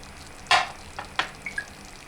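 Chopped onion added to olive oil in a hot pan, producing a sharp sizzle burst followed by a few shorter crackles and spits, close and fairly quiet.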